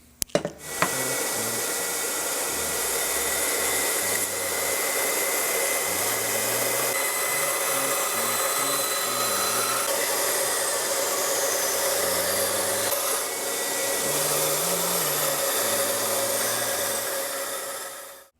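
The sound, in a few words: router table flush-cutting an electric guitar fretboard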